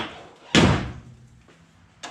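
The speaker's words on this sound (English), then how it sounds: "I'm going to go ahead and drop the tailgate." Chevy Colorado Z71 pickup tailgate dropped open, a single loud metallic thud with a decaying rattle, followed by a softer knock and another sharp clunk near the end.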